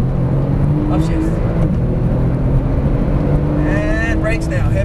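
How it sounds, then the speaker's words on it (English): Porsche 911 Turbo S engine driven at full throttle on a track, a loud sustained roar that rises in pitch before an upshift, running steadily beneath an instructor's spoken coaching. "Back on the throttle now, and floor it. Upshift."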